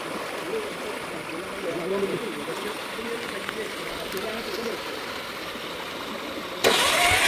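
A car engine runs steadily while the vehicle drives through a fast-flowing flooded stream, with constant rushing water noise throughout and a sudden louder burst of splashing near the end.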